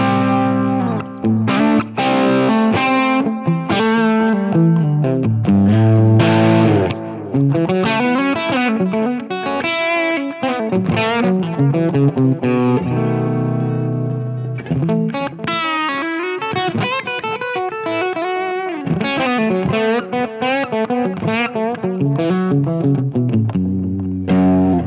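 A Godin Stadium Telly electric guitar plays through a Line 6 Brit Trem Norm amp model in a continuous run of busy, overdriven chords and lead phrases. The tone is dark and slightly distorted, with no talking throughout.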